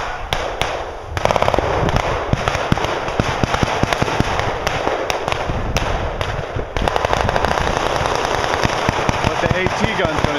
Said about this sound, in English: that is an air shot, I think 50 cal, so we could be whipping off rounds